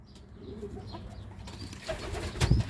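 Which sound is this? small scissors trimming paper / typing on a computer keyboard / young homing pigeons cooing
young homing pigeons cooing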